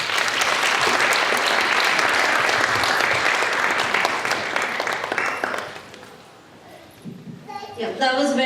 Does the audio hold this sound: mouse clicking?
no